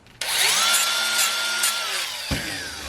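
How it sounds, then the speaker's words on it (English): A small pneumatic die grinder whines steadily as it grinds down a metal part from a Chrysler 727 transmission valve body, the high pitch gliding slightly, then cutting off near the end. "I grind this down a little bit right here"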